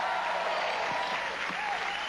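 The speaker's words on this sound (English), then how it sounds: "Round of applause for Sean" A studio audience at a TV show applauds a contestant, a dense, even wash of clapping sustained throughout with a faint crowd murmur beneath.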